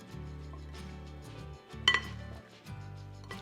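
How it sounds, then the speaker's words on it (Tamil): A wooden spatula stirs and scrapes mango pickle in a bowl, soft repeated knocks and clinks of dish contact with one sharper clack midway, close and quiet, no talking. "நான் இந்த சைட்லேருந்து ஒரு உட்டன் ஸ்பேச்சுலால மிக்ஸ் பண்ணுறேன்"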